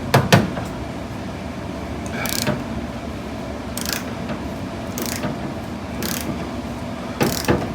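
A socket wrench ratchets in short bursts while loosening a bolt on the door of a 1970 Plymouth Forsyth 340, crisp clicking repeated several times at close range with quiet pauses between strokes.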